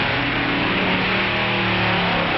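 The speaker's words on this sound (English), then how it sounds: "There's the Allison against the twin Chevy." At a drag race, an Allison-engined dragster and a twin Chevy car make a loud, sustained engine roar that holds steady and fills the whole stretch, with no talk over it.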